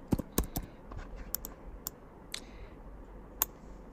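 Keys tapped on a computer keyboard during design work, a few scattered crisp clicks with short pauses between them, fairly close and moderately loud over a low steady background hum.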